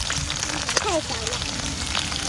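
Blanched duck pieces sizzle and crackle in plenty of hot oil in a pan in a makeshift camper kitchen, a steady close frying hiss with a brief voice heard partway through.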